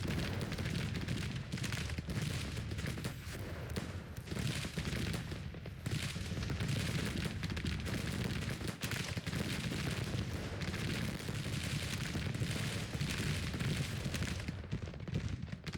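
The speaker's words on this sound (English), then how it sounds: "Come on, get a volley in." Musket volleys and cannon fire in the Civil War video game Grand Tactician, a continuous distant roar of massed gunfire with occasional heavier booms, steady and fairly faint throughout.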